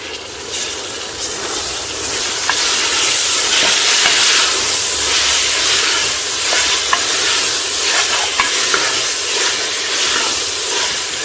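Biryani masala with chopped mint and coriander leaves frying in oil for chicken biryani, a steady loud sizzle and hiss throughout, with occasional stirring scrapes and small pops.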